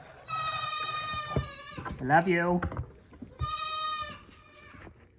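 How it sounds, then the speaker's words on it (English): Baby Nigerian dwarf goat bleating in two long, wavering cries close by in a snowy barnyard, with someone speaking softly between them. "Your little bleat is adorable"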